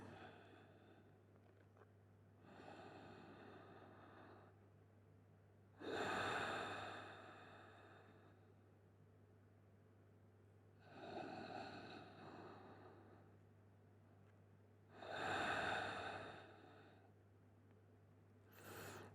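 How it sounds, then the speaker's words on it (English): Slow deep breathing during a morning vinyasa yoga session, with long, soft inhale and exhale swells repeating every few seconds over a steady low hum, close and fairly quiet, with no talking. "Stay here for another 3 deep breaths."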